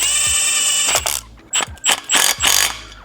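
A 13 mm ratchet tightening a bolt on an 034 street density engine mount in an Audi S4, loud close bursts of rapid clicking pawl strokes, four or five quick cranks in succession.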